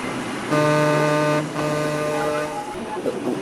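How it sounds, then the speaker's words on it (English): A car horn blares twice, a sustained honk then a second longer one, over steady engine rumble. "You honked your horn, and we heard a horn in response instead of a whistle"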